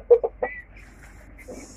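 Chickens and young hens in a small coop give a few quick close clucks, then softer scattered calls, brief and fairly quiet.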